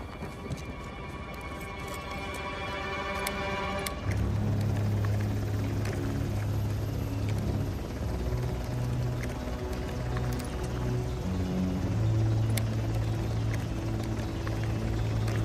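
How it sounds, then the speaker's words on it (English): A helicopter in the video game Uncharted: The Lost Legacy, a steady low rotor drone and engine rumble that swells louder after a few seconds and holds throughout, with no speech. "Bring that chopper down."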